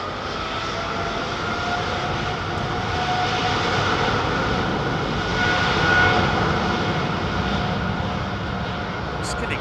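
A freighter aircraft with GE engines takes off at London Heathrow Airport, producing a broad, steady jet roar that holds for several seconds and swells slightly midway, loud and sustained with a voice talking over it.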